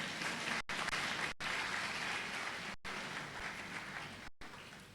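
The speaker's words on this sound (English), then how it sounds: "You should be clapping by now." Audience at a university congregation ceremony applauding steadily, a broad sustained clatter of many hands cut by several brief dropouts.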